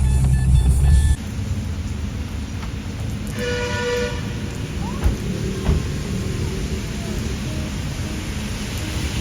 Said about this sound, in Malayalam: മഴ കണ്ടില്ലേ